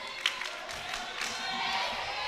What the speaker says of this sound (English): They're being cheered on by that 100-plus roster of